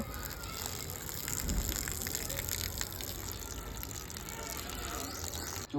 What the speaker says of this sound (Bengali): চালটা ভালো করে ধুয়ে নিচ্ছি